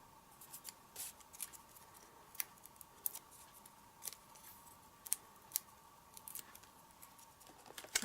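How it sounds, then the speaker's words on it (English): Scissors snip through paper for a papercraft project in quiet, scattered cuts, small crisp clicks spaced irregularly against a faint steady hum; the scissor blades are sticky. "I think I need to clean my scissors, it's very sticky"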